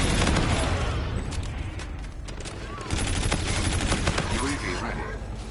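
Dense gunfire in the multiplayer shooter Call of Duty: Infinite Warfare: rapid automatic bursts and overlapping shots fill the whole stretch, loud and continuous, with muffled booms and game voice callouts beneath.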